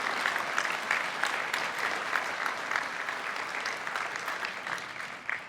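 Steady applause rises from the audience at a hockey hall of fame induction ceremony, many hands clapping together with a few sharper claps standing out, fading slightly toward the end.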